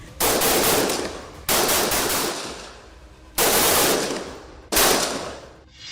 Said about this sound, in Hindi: आतंकवादियों ने घेरा तोड़ने के लिए टीम पर अंधाधुंध फायरिंग शुरू कर दी